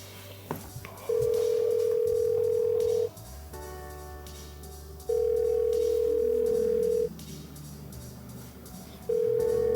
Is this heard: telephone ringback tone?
yes